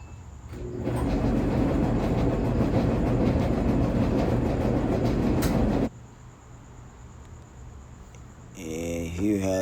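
A Samsung front-load gas dryer with a worn idler pulley runs loudly with a rough, rattling rumble that stops abruptly, leaving a quieter hum before a voice speaks.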